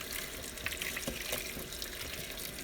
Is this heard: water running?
yes